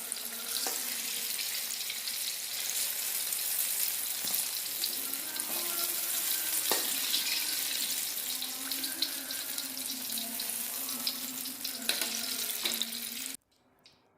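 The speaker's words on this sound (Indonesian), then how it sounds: "Kita lanjut menggoreng jengkolnya." Steady, dense crackle and sizzle of jengkol beans frying in hot oil, close and continuous, ending abruptly near the end.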